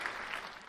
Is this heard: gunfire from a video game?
no